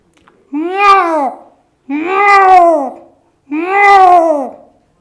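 A mimicry artist's voice imitates tomcats meowing: three long, drawn-out yowling meows, each followed by a pause, loud and close.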